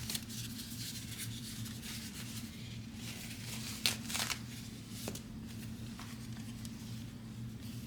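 Sharpened grooming shears snip through a piece of wet tissue, giving a few soft, brief cuts near the middle over a steady low hum.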